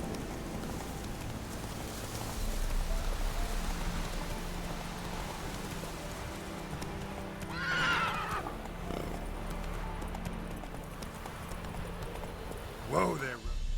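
Roach, a horse in a video game, lets out two whinnies, one in the middle and one near the end, over hoofbeats and steady rain.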